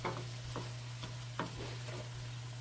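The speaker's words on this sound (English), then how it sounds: "just take your spatula or your wooden spoon and just stir around the contents" Vegan sloppy joe mixture of bulgur and celery stirred in a pan with a spatula or wooden spoon, a few soft scrapes over a faint steady sizzle and a low hum.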